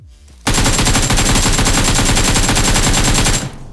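Automatic gunfire in the mobile battle-royale game BGMI (PUBG Mobile): a loud, rapid, continuous burst of shots that starts abruptly and runs for about three seconds before cutting off, with no talking over it.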